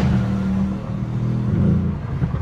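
A Mercedes C63 AMG, pre-facelift, accelerating hard with its rear tyres spinning, heard from inside the cabin as a loud, sustained low engine drone that rises and falls slightly, with no talking.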